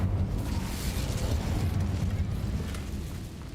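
A roaring, whooshing blast of flame from the Incendio fire spell cast in Hogwarts Legacy. It is loud and sustained, then tails off slightly at the end.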